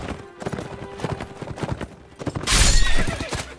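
Horse in the Mount and Blade video game neighing over rapid clip-clop of hooves during battle, with a loud burst of clashing noise near the end.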